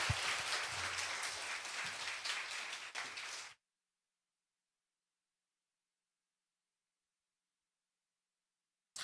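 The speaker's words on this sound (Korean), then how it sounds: "박수 주셔도 됩니다." Applause from a church festival audience at a Korean evangelism gathering, dense and steady for about three and a half seconds, then cutting off abruptly into silence.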